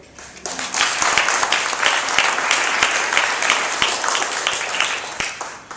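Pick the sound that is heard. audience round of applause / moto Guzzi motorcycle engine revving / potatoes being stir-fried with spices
audience round of applause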